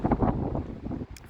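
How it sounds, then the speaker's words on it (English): Gusty wind buffets the microphone outdoors beside a pond being built with greenhouse plastic, a rough low rumble that surges and eases in uneven bursts, close and loud, with no talking. "Ooh, that's a nice old gust of wind."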